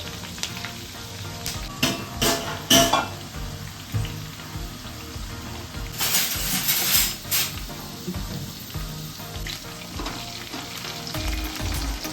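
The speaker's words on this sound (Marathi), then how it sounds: "भेंडी छान कुरकुरीत होईपर्यंत मस्त फ्राय करून घ्यायची" Okra fries in a pan, crackling with a dense, continuous sizzle and sharp spatters and pops, close and fairly loud, with occasional stirring scrapes and no voices.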